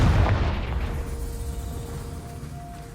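A Confringo spell blast in Hogwarts Legacy goes off as one loud, deep explosive boom that rolls away and fades into a quiet rumbling tail.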